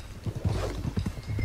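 A Black Arabian stallion galloping in the video game Red Dead Redemption 2, rapid rhythmic hoofbeats pounding close and steady.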